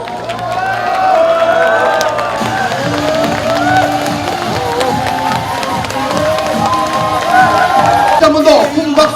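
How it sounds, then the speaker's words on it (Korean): A large crowd at a political party rally cheers and applauds as party officials enter, a dense roar of clapping and whoops that carries steadily throughout, with an announcer's amplified voice over it and music mixed in. "여러분 일어서서 큰 박수로 환영해 주시기 바랍니다"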